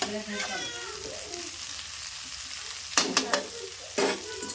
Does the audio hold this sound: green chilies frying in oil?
yes